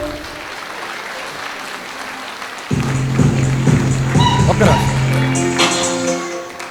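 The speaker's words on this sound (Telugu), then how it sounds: "జోరుగా క్లాప్స్ అవ్వండి" An audience at a Vestige business bootcamp in Rajahmundry claps steadily, and after a few seconds voices or music rise over the clapping.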